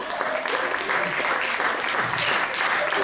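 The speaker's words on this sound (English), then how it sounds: "Thank you very much, applause, Mr. Lee Pace." Audience at a live comedy show clapping, a dense, steady burst of applause filling the whole moment, loud and close.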